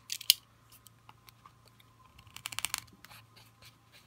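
A knife slicing open packaging on a delivery box holding live scorplings, heard as close, quiet scratching and cutting strokes with a sharp crackle near the start and a burst of scraping toward the end.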